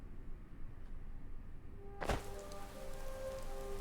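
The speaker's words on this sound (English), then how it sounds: "Ooh, it's raining." Rain in Riverwood in the video game Skyrim: a steady soft patter of falling rain throughout, then a sudden thump-like transition around the midpoint into a brighter, denser wash of rain with faint tonal ambience.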